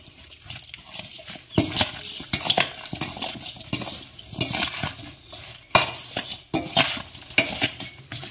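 A spoon stirs lemon and green chili pickle coated in mustard oil, giving repeated wet squelching scrapes against the bowl in uneven strokes, close and fairly loud with no talking.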